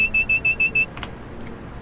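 A simulated LIRR M3 train cab in Train Sim World 5 sounds five evenly spaced, moderately loud electronic speed-warning beeps, followed by quieter cab rumble and a couple of soft clicks.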